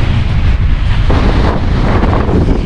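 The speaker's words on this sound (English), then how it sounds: "It might be windy" Steady, loud wind buffeting the microphone in a continuous roar, with no voices, at a volcano near León, Nicaragua.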